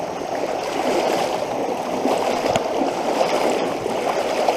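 Fast-moving floodwater in a swollen creek rushes in a steady, loud, broadband wash close by, with small splashes and gurgles throughout and no speech.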